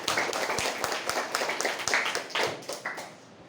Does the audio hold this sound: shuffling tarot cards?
no